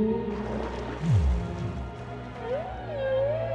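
Whale song in the VR game Guardians of the Kingdom, with low sweeping moans and a rising, wavering call over an ocean-like background, fairly faint.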